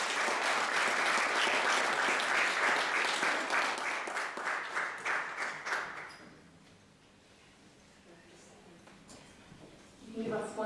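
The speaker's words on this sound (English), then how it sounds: "Let's give her a round of applause." An audience at a Houses of Parliament award ceremony gives a loud, full round of applause for the award recipient, fading out after about six seconds into quiet, before a voice begins near the end.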